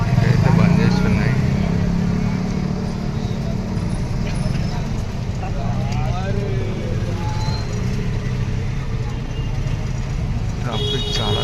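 Dense night road traffic near Charminar in Hyderabad, a steady low rumble of cars, motorcycles and buses running close and continuous, with people talking over it throughout.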